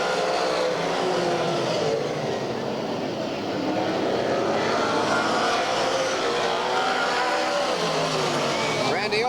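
Race cars lapping slower traffic at Redwood Empire Raceway (Ukiah Speedway) during the 1985 Ben Chapman Memorial, a steady loud roar of several engines passing continuously, with a track announcer talking over it.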